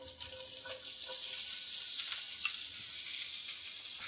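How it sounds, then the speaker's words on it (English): Onion hits hot butter and meat drippings in a pan, setting off a steady, bright sizzle and hiss that swells slightly and continues with small pops and crackles, close up. "Then you're going to add your onion."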